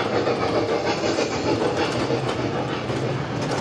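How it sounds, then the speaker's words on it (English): Small tourist train passing by in the evening at an Orlando entertainment park, a steady, fairly loud rumble with faint clickety-clack of the cars, continuous throughout with no talking. "Little choo-choo train."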